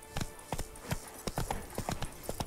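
Horse hooves in the video game The Witcher 3: Wild Hunt, a quick, even clip-clop rhythm of close, crisp hoofbeats over a quiet background.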